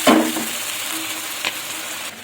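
Mourala fish sizzling as it fries in spiced oil in a pan, with a burst of crackling at the start and a steady hiss after, plus a brief clink near the middle.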